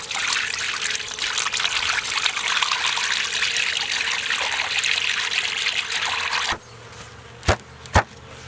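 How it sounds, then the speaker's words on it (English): Sugar water trickles steadily into a bee feeder for newly installed package bees, a close, continuous pouring hiss amid buzzing bees, stopping abruptly, then followed by two brief knocks. "let's put this little feeder cover over here and then pour some sugar water in it."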